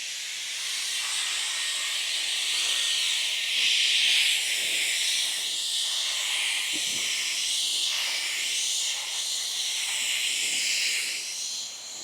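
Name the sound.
electric air blaster blowing out debris at full power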